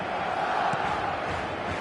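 A football stadium crowd at an Egypt versus Argentina match keeps up a steady, loud, continuous roar throughout, with no distinct voices standing out.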